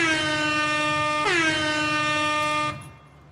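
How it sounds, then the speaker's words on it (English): A loud, blaring air horn sounds in one sustained blast for about two and a half seconds, dipping briefly in pitch partway through, then cuts off. "I got an air horn."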